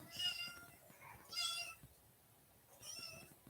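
A cat meows three times in a slow, separated series, each call fairly loud and close with quiet room noise in between.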